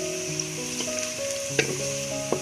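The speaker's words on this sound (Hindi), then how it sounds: "अब ये प्याज ब्राउन होना शुरू हो गया।" Onions frying and browning in a pan for chickpea pulao, a steady soft sizzle with a few brief clinks of a utensil stirring, close and moderately loud with no talking.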